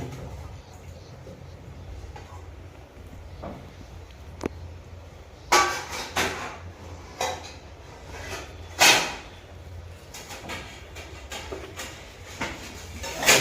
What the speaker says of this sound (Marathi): खाली खाली ठेव आणि त्या रेखला राहू भांडी